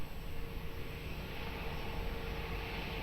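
An airplane taking off from runway 02 at Lisbon Airport gives a steady, broad engine roar that holds at an even level throughout, with no voices.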